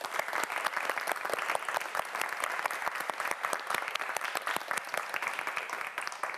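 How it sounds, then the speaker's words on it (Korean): A studio audience at a TV quiz show claps steadily for several seconds, a dense, even round of applause with no voices. "오늘 열심히 해준 신동혁 학생에게 큰 박수 보내주시기 바랍니다"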